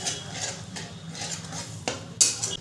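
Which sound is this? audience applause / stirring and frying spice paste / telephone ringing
stirring and frying spice paste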